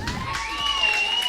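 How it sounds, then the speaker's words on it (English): Crowd at a junior athletics high jump competition whistling and cheering, with sustained whistle tones over broad applause-like roar, fairly loud and continuous. "Hear the whistles and roars."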